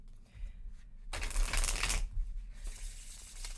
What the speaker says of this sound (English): So I'm gonna shuffle up both decks, okay?